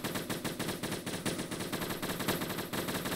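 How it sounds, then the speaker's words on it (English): Rapid automatic gunfire from a competitive 3v3 video game match, dense continuous bursts of shots filling the whole moment at steady loudness with no talk. "Who is Farmer shooting at?"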